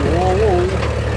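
A 1963 International TD 340 diesel at a pioneer days parade idles with a steady low rumbling throb, close and continuous, while someone talks over it.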